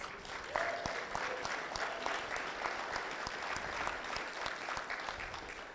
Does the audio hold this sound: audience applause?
yes